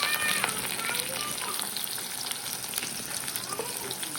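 Onion and green chillies fry in hot oil, a steady dense crackling sizzle that stays even and close, with a faint voice and small clinks mixed in.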